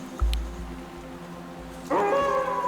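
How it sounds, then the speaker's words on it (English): Wolves in the Werewolf: The Apocalypse Heart of the Forest video game raise a long, sustained howl that swells in mid-clip, several tones layered over a low rumbling game ambience. "Howls rose towards the sky"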